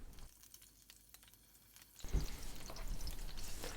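Minced garlic hitting hot oil for a Thai red curry: after a quiet start with faint clatter, a steady, fairly loud sizzle and crackle takes over and keeps going to the end.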